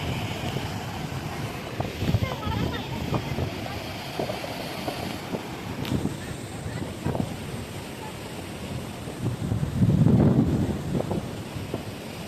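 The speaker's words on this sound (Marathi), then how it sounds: "किती आवाज येतोय पाण्याचा" Rushing water at Malganga Kund, the large river pothole gorge at Nighoj, roars steadily beneath strong wind buffeting, with a swell of louder surging near the end.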